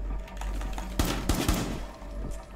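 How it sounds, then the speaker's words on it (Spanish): Gunfire in the tactical shooter Rainbow Six Siege: rapid bursts of automatic shots with a few sharper, louder cracks in quick succession over low background game noise. "Vale, sigue pegando tiros."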